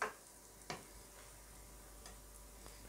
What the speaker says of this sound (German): Etwas Öl in die Pfanne und dann kommen auch die Patties schon ins Öl.